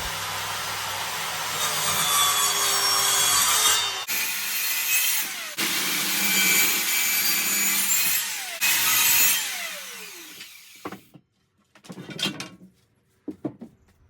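A power tool trims a repaired wooden worktop in several long, loud passes separated by brief breaks, followed by a few quieter scraping and knocking sounds, aboard a narrowboat.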